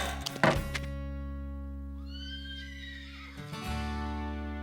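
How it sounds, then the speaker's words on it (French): Diablo, a cartoon horse, gives one loud, drawn-out whinny that rises and then trails off, framed by short thumps and rustles over a steady low hum. "C'est vrai que Diablo est un cheval fougueux"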